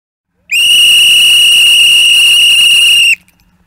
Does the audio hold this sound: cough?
no